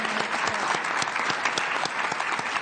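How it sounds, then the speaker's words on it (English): Applause from the audience at an Arizona public hearing on election irregularities: dense, steady clapping with sharp individual claps standing out, close and loud, with no talk over it. "They're clapping for you."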